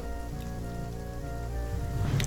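Steady rain patters on a surface in a low, continuous wash, with a faint tonal hum beneath and a slightly louder spatter near the end.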